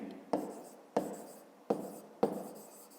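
A pen scratches on paper in four short strokes spaced evenly apart, close and fairly quiet in a still room.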